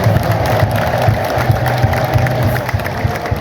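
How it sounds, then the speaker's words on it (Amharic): A crowd at a building inauguration ululates and claps. The roar of cheering, trilling voices and applause is loud and continuous, with rhythmic clapping running steadily underneath. "ጭብጨባውም እልልታውም ሞቅ ደመቅ ነው።"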